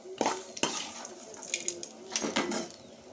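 Fried ingredients for a drumstick-leaf chutney, including curry leaves, scraped from a pan into a bowl, giving a few sharp metallic clinks and clatters of spoon on cookware, close and fairly quiet, with soft scraping between the hits.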